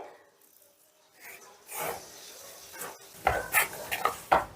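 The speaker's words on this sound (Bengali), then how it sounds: "মটরশুঁটি মাখাটা দিয়ে এটাকে ভালো করে মেখে নেব" Soft paratha dough being kneaded by hand with mashed green peas, giving quiet squishing and pressing sounds that grow into louder sticky slaps and pats toward the end.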